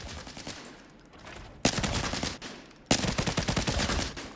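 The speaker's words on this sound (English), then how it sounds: "So that's the AN-94 Abakan, a really cool weapon. And full auto, you can see, not super practical" Full-auto AN-94 Abakan fire in the Arena Breakout Infinite shooter game, two loud sustained bursts of rapid, dense shots at close range, each breaking off abruptly, with no talk.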